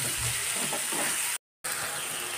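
Onion, mashed tomato and ginger-garlic paste frying in a pan for dhaba-style pav bhaji, a steady close sizzle with faint stirring, broken by a brief cut of silence.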